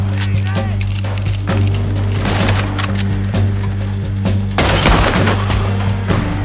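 Gunfire crackles and booms in Red Dead Redemption 2, with several shots layered over a steady droning game score and ambient in-game noise.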